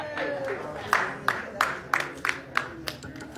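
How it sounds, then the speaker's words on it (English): Scattered hand claps for an award recipient at an outdoor community leaders awards ceremony in Times Square, a handful of distinct claps spaced out over background chatter and street noise. "Give her a round of applause."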